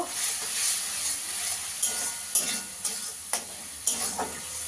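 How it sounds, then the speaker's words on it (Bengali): Spice masala with Kashmiri chilli, coriander and cumin powders fries in a pan, a bright close sizzle broken by regular scraping strokes of the stirring spoon. "দিয়ে মশলাটাকে ভালো করে কষিয়ে নেব।"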